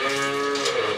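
A Gir cross cow on a dairy farm gives one short, close, loud moo with a strong harmonic tone lasting about a second.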